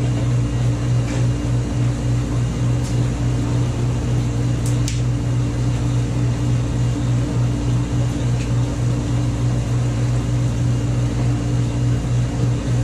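A stand mixer kneads bread dough with a steady, continuous motor hum and drone that runs evenly throughout, with a few faint clicks and bumps over the top.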